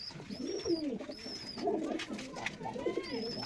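Madrasi pigeons coo in a small loft room with soft, repeated throaty calls, several overlapping, close by and fairly quiet. A few faint higher chirps come through in between.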